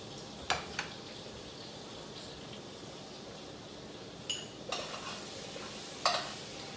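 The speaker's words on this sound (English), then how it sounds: "now I'm going to stir in 3 tablespoons of flour" Flour being stirred into carrots cooking in a pot while making beef bourguignon, a soft faint bed of scraping with a few sharp clinks of a utensil against the pot.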